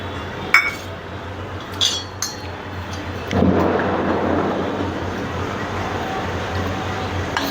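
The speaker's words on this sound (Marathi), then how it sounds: "शेंगदाणे चांगले भाज तळून घेऊया" Peanuts go into hot oil for a Marathi poha chivda: a few sharp clinks of a utensil against a pan, then a steady, close sizzle that rises and holds to the end.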